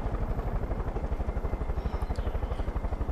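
Helicopter in the video game Far Cry 5, its rotor beating in a steady, rapid thump that stays loud and close throughout, with a faint higher whine rising briefly near the end.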